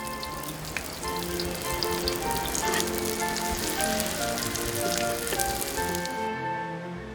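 Steady crackling sizzle of food coated in a flour and starch batter deep frying in hot oil, continuous and close, with dense popping throughout.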